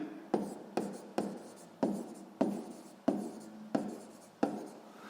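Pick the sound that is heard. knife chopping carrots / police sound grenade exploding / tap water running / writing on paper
writing on paper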